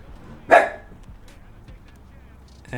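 A single sharp dog bark indoors during rain, loud and close, followed by quiet with faint small noises and a brief burst of sound at the end.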